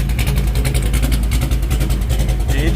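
A car engine idles steadily at about 850 RPM during cooling system checks, a loud close rhythmic low throb with pulsing beats, alone with no speech.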